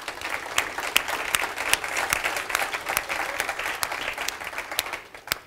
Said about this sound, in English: So could everybody just give them a round of applause and say thank you.